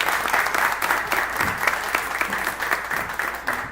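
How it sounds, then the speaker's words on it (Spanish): A church congregation claps for Kevin and his newly married family, sustained loud applause from a roomful of people with a slight rhythmic pulse, lasting several seconds. "Yo quiero que le den un aplauso."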